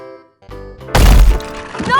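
Cartoon rocks come crashing down onto a bus in one sudden loud smash with a cracking, shattering burst, preceded by brief musical notes and followed by a voice.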